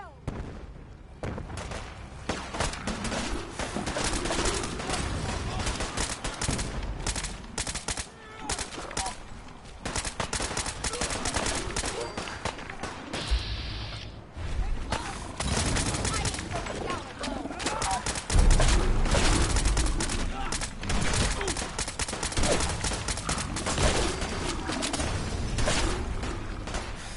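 Sustained gunfire crackles in a foggy coastal fight in the video game Fallout 4 Far Harbor, bursts of shots piling up continuously with shouting voices mixed in and a heavier boom partway through.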